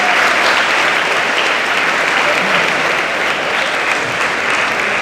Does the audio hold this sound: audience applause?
yes